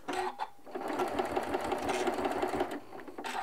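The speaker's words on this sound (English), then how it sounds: "All right, now I'm going to backstitch." A sewing machine backstitches along quilt binding, a close, fast mechanical run of rapid stitches that starts and stops briefly, with no talking.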